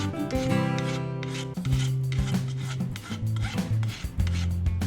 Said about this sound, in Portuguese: Aqui ela tá limando aqui os 4 cantos